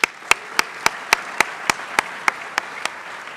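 A crowd at a Saint Johnsbury Academy assembly claps in unison for the school cheer team: about a dozen sharp, evenly spaced claps in a steady quick rhythm, with no voices.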